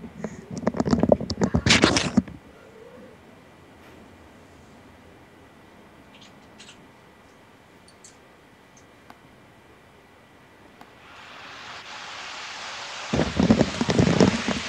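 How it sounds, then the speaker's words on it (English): A wind machine whirs up after a long quiet stretch and settles into a steady, fairly loud broadband rush through the final seconds, with brief voices at the start and end. "Let me fire up the wind machine, set you down for a minute, see if that works. If it's too loud, I'll shut it off."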